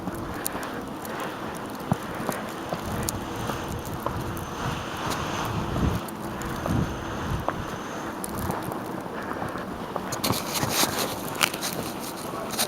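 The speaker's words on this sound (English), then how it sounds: "In fact, look at that wind out here." Constant gusting wind during a heavy snowstorm, a broad rushing roar with steady microphone buffeting and occasional crackling handling sounds, with no talking.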